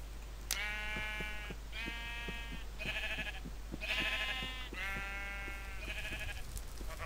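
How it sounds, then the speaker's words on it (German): A burning sheep in a video game bleats again and again in quick succession, six or so strained, buzzy cries over a low constant hum, with no talking. "So klingt es, wenn ein Schaf brennt."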